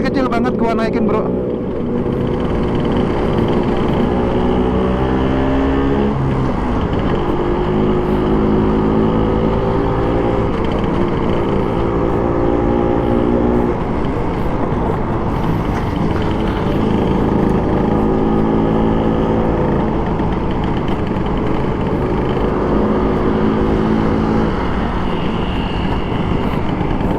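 A 1962 Vespa VBB four-speed scooter engine hums steadily while riding, its droning tone rising and falling with the throttle, with someone talking over it throughout.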